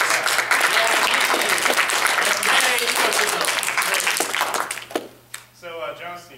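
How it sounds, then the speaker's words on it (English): A small group at a university club meeting applauds themselves, dense steady clapping for about five seconds that tapers off, followed by a voice starting to speak. "Let's all give a nice round of applause for ourselves."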